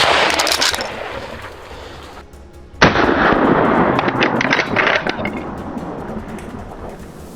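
A loud rifle shot rings out in an outdoor wild boar hunting setting, a sharp blast followed by a long rumbling echo and lingering noise, with an earlier burst of sound preceding it and no speech.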